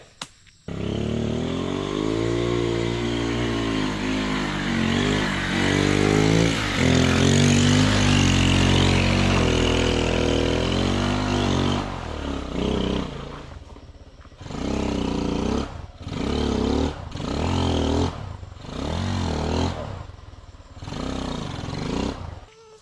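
A motorcycle engine roars in a long, loud, strained rev while struggling uphill, then gives several short, choppy throttle bursts with gaps between them.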